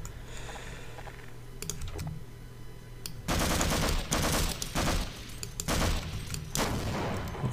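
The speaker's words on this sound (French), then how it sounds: "Je tire devant moi." Rapid automatic gunfire from the video game Half-Life rattles out in three loud, dense bursts over a low background hum, with a few scattered single shots before them.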